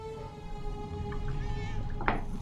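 A cat meows in the video game Murdered: Soul Suspect, heard as short faint cries over game ambience, ending with a sharper, louder burst.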